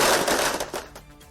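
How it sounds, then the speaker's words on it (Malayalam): Firecrackers burst at a CPIM political celebration in Kerala, a dense crackling volley of rapid pops that rattles on loudly for about a second before thinning out. "പടക്കം പൊട്ടിച്ച ആഘോഷവുമായി CPIM."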